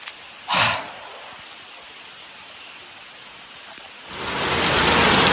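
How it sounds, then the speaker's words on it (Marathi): Heavy monsoon rain in the Konkan sets in as a broad, rushing hiss that swells loudly after a quieter stretch of light patter and faint background noise. "आता पावसाने चांगला जोर पकडलाय आणि मस्त पाऊस आलाय"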